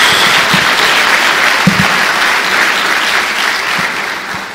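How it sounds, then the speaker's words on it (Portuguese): A church congregation gives loud, continuous applause, dense clapping that holds steady and fades only slightly toward the end. "Dá uma salva de palmas a Jesus."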